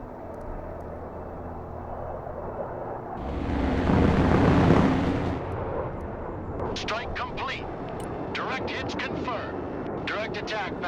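A military jet in the Broken Arrow game roars past in a loud swelling rush of noise, with crackling bursts and sharp scattered impacts following amid the background rumble.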